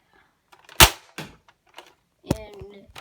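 A Nerf AccuStrike dart blaster fires with one sharp, close snap, followed by a few lighter clicks and a second crisp pop with a brief rattle.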